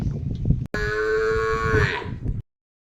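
A cow on a farm moos loudly and close, one long drawn-out call lasting about a second and a half after a brief burst of low background noise, then silence.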